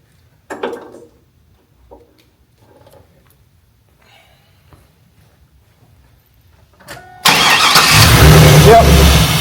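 A Pontiac car engine cranks and catches, firing into a loud, steady running roar after several seconds of quiet shuffling and faint handling noises nearby.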